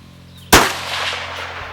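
A single loud precision rifle shot cracks out close by at long-range practice, a sharp blast followed by a lingering rolling echo that fades slowly, with no talk.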